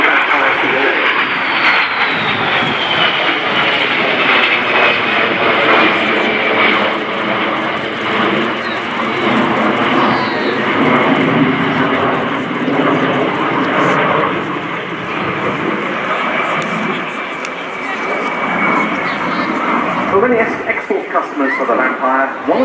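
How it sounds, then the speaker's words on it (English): A pair of de Havilland Vampire jets, led by a two-seat T-55, roaring past with a loud, sustained whine and rumble that holds steady, while an announcer talks over it. "The aircraft leading this pair is a two-seat T-55 built for the Swiss Air Force"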